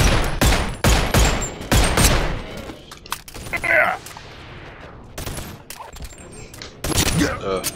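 Bursts of machine gun fire in BoneLab come in several loud, sharp volleys separated by short pauses, with scattered impacts and clatter between them.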